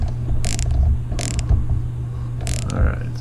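A hand tap cutting new threads into a stripped chainsaw spark plug hole, heard as a few short, close metallic creaks and ratcheting scrapes at irregular intervals, with low mechanical rumble in between.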